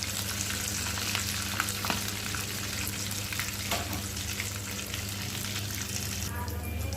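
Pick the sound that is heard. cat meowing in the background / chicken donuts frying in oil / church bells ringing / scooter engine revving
chicken donuts frying in oil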